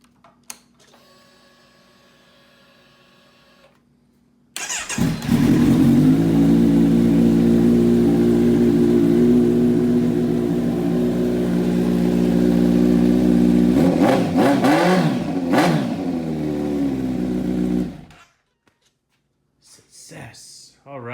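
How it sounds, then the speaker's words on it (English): A Kawasaki Z900 motorcycle cranks and catches, then runs loud and close with a steady rumble, a burst of revving near the end and a sudden cutoff, followed by faint clicks. "I need to see if the bike will crank"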